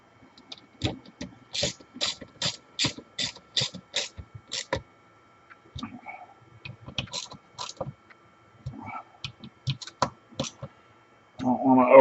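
Tightening parts on a Milwaukee 6238-20 portable band saw during repair gives a quick, regular run of sharp mechanical clicks, followed by scattered clicks and a brief burst of nearby voice and handling noise.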